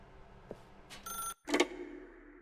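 A telephone rings in The Stanley Parable, two bright electronic bursts split by a short silence, close and clear against a quiet room.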